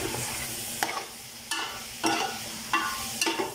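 Pininyahang manok with onion, garlic, ginger and pepper being stirred in a pan: repeated scraping strokes roughly every half second to second over a soft steady sizzle, close and moderately loud.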